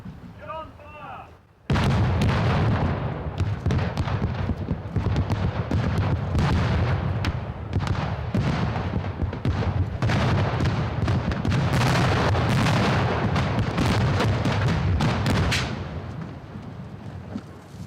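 Special effects explosions set off on a James Bond film set, a dense barrage of loud booms and blasts that follows a brief quiet moment and continues for over a dozen seconds before easing.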